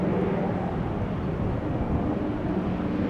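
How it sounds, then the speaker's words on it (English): A DC-3 Dakota propeller airliner, more than 80 years old, near Amsterdam Schiphol Airport, a steady broad engine drone that holds fairly loud and even for the few seconds. "DC-3 Dakota."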